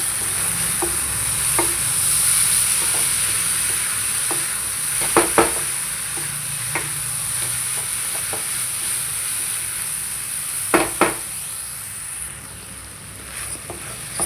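Soaked poha and egg are stirred in a frying pan over a steady low sizzle, with a spatula scraping and tapping against the pan every few seconds.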